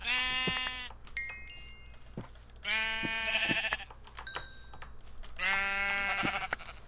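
Three loud Minecraft sheep bleats arrive at steady intervals, each a harmonic, wavering cry, over quiet keyboard clicking and light game background noise.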